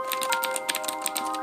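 Keys on a Razer BlackWidow Ultimate 2013 mechanical keyboard, a quick run of loud clicky presses in an uneven typing rhythm, close up, no voices.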